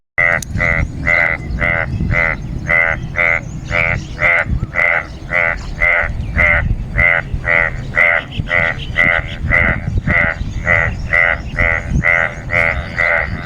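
A steady chorus of large frogs croaking after rain in village crop fields in Pakistan, in a fast, regular pulsing rhythm, loud and continuous over a low rumbling background.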